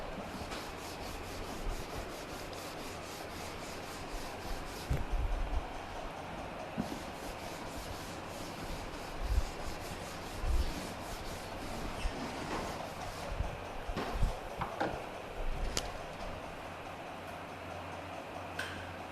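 A board in a fluid mechanics classroom is wiped clean, producing a steady, faint scrubbing and rubbing noise with occasional soft knocks and bumps, with no one talking.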